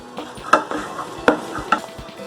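Coconut powder is stirred into rice flour in a bowl, giving soft scraping and rustling with a few sharp taps of the spoon against the side, close by and alone.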